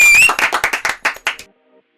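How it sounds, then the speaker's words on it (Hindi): Audience at a Ganesh festival event in Pune claps to welcome a film actress: a short run of brisk, rhythmic claps after a brief voice, stopping abruptly about halfway through. "हम सभी जोरदार तालियों से मोनिका मैम का वेलकम करते हैं"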